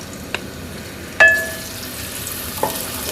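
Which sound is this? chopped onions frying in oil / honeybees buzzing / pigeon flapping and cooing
chopped onions frying in oil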